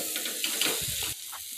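A spoon stirs tomato chutney with red chili powder in an oiled pan. It makes a soft, steady sizzle with scraping and stirring strokes, and a brief heavier scrape toward the end.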